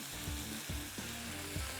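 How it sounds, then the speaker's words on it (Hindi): Meat and gravy frying in a pan for a spicy barbecue chicken kabab, a steady close sizzle with rhythmic scraping stirs about every half second. "भूनते जाओ"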